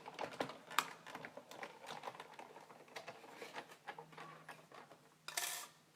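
Paper card for a flag booklet is cut in a quick series of small, dry clicks and snips, close and fairly quiet, ending in a short scraping swipe.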